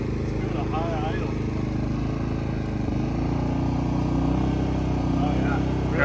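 A truck engine runs at high idle, a steady loud low rumble that holds throughout, with a voice talking faintly over it.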